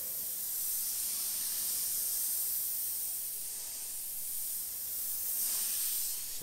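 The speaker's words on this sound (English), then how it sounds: "we've got paint all loaded up in there. We're going to go ahead and give it a spray." A Sagola XTECH 200 airbrush sprays paint in a continuous, close, bright hiss that swells slightly toward the end, with no voices.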